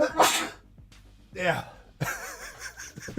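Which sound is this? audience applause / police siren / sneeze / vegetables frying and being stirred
sneeze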